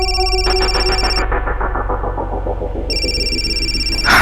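An electronic ringtone plays loudly, a repeating tonal melody with a steady pulsing rhythm over a low hum, pausing briefly before resuming.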